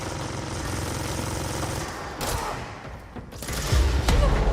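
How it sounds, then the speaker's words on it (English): Rockets being fired in the video game Control: dense rattling bursts of fire, then a few sharp cracks, and finally a heavy booming thump near the end, all loud and close. "Someone shooting rockets."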